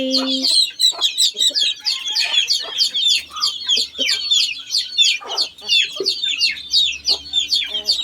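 Chickens kept on a Lao village farm cluck continuously in a busy, close chorus, with rapid overlapping calls and occasional louder squawks against a faint low hum.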